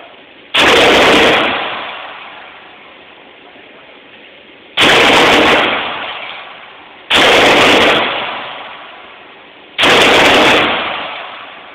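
Four loud, sharp gunshots from a Saiga 7.62 rifle, fired singly at uneven intervals of a few seconds, each crack followed by a long, rolling echo that decays before the next shot.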